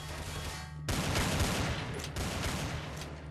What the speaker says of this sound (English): the Deagle worked like this